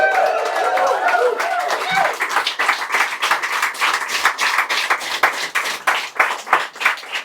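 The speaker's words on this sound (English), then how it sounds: "Didn't even give my introduction and you applauded her." An audience in a Dublin hall applauds a speaker's introduction, a steady patter of many hands clapping, loud and near, with a voice talking over the start before the clapping carries on alone.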